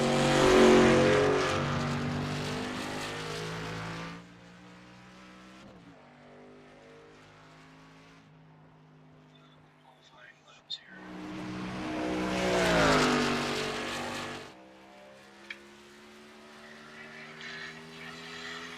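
Race cars roar through qualifying laps in an ASRL Xfinity Series racing video game at Iowa Speedway, with two loud, close engine passes rising and fading between quieter stretches of engine drone.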